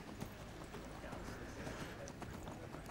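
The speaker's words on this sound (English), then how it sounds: "If you just get on a horse and just run up it" A horse in the Skyrim video game gallops up a steep mountainside, its quick rhythmic hoofbeats pounding steadily beneath someone talking over it.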